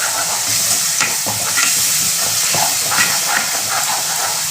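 Spices frying with ginger paste in a hot pan for a barbati (long bean) masala, a loud continuous sizzle and steamy hiss with intermittent stirring scrapes, close and without talk.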